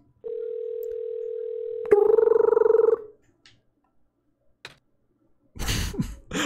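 In the video game OneShot, a telephone gives a long steady electronic tone, then a short buzzing ring. A few quiet clicks follow, then a brief rustly burst at the end.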